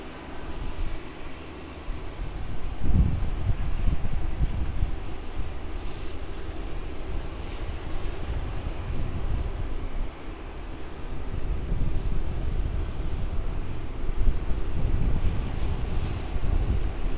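An airliner arrives at Sydney Airport with a steady, broad jet engine roar and low rumble heard from outdoors at some distance, swelling slightly as it passes, with wind buffeting the microphone.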